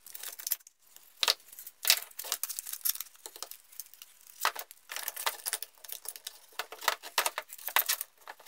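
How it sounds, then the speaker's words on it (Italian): A clamp or press being tightened on a veneered wooden workpiece in a woodworking shop: irregular faint creaks, clicks and rustling scrapes in short uneven bursts, close by and without talk. "Mettiamo nello strettoio e andiamo a morsettare."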